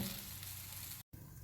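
Dosa batter sizzles steadily on a hot pan, a continuous, fairly loud frying hiss up close that cuts out abruptly for an instant near the end before resuming.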